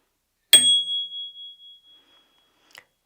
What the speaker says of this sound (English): Bell number 1 is from the brand Cateye